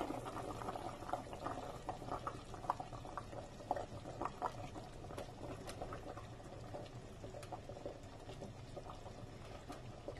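Water boils in a cooking pot while artichoke dolma is being made, a quiet, continuous bubbling and popping close by, with no talk.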